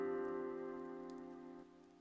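Steady rain falls in a horror visual novel video game, a soft, even hiss beneath sustained droning tones, quiet and without any voices.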